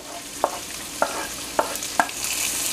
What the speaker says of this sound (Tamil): அதில் போட்டு வதக்குங்க. பூண்டு, தக்காளி